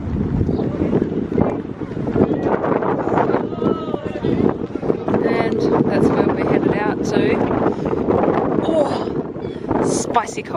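Cold wind buffets the microphone on the deck of a Staten Island ferry heading toward the Statue of Liberty, a loud, steady rumble with engine and water noise beneath, while people talk throughout.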